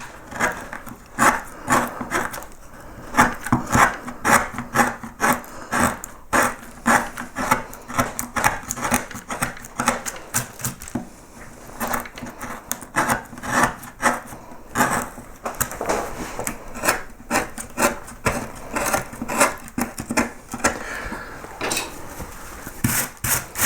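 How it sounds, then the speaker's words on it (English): A bent gouge carves a wooden relief in a steady series of crisp scraping and chipping cuts, each short stroke close and distinct, repeating irregularly throughout. "I'm going to have to swap to a bent gouge"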